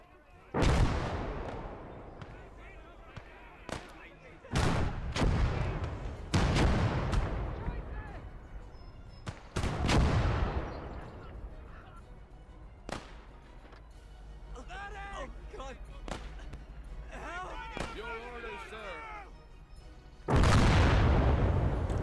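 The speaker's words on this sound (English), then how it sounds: "Sometimes the tank's ammunition will cook off after it's destroyed, so you might just hear a few explosions like that one throughout the battle." Gates of Hell: Ostfront battle in which a destroyed tank's ammunition cooks off. Loud, near booms and blasts repeat in irregular bursts, with scattered gunfire between them and quieter crackling stretches.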